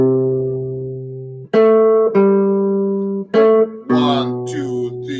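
Clean jazz guitar plays the melody of a jazz standard at written pitch, a few sustained single notes and short phrases, clear and close with ringing decay between them.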